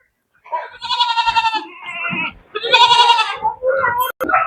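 A goat bleats several times in quick succession, loud and close, with wavering, nasal calls and brief pauses between them.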